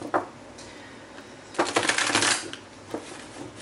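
A new deck of tarot cards is shuffled by hand in short riffling bursts, one quick flick then a longer dense flurry, close and fairly loud with no talk.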